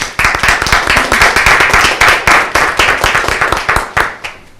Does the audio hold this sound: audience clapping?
yes